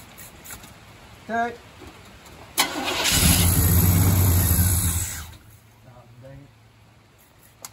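A rebuilt 1977 GMC Sierra squarebody truck engine cranks and catches. It roars up loudly for about two seconds, then settles back and cuts out. Brief voices are heard just before and just after the start.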